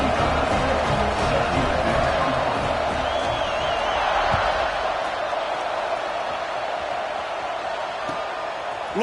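Stadium crowd noise at a football game as the kickoff is set up: a steady, dense roar of many voices with scattered shouts and whoops, loud and sustained throughout.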